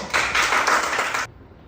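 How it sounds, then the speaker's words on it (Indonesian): A classroom of students clapping hands together in a short burst of brisk, dense applause lasting just over a second, then stopping abruptly into near silence. "Kasih tepuk tangan."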